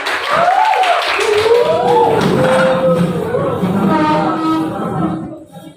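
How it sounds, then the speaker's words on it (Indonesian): Students in a high school classroom clap together while loud voices whoop and call out over the clapping. The noise stays busy and near for about five seconds before easing off. "tepuk tangan untuk"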